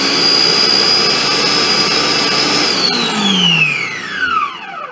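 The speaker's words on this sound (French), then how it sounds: "vitesse maximum on est sur du 10. Donc attention, on va voir le bruit." A Lidl Monsieur Cuisine Connect food processor runs at maximum speed 10, a loud, steady high-pitched motor whine that holds for about three seconds, then winds down with a falling pitch as it slows to a stop.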